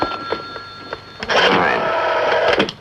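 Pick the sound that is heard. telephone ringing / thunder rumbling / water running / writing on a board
telephone ringing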